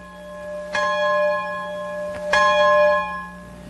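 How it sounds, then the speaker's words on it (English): A school bell on a remote island in Lake Huron, Michigan, rings twice, about one and a half seconds apart, each strike clear and resonant with a long ringing tail, alone in a quiet setting. "the bell signals another school day"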